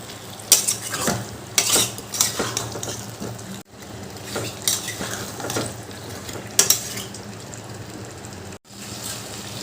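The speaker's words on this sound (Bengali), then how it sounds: "এবার ভালো করে কষালে মশলাটা কিন্তু আলুর ভেতরেও ঢুকে যাবে" Potatoes with spices are stir-fried in a pan, a spoon scraping and clanking against the metal in repeated strokes over a continuous sizzle, loud and close.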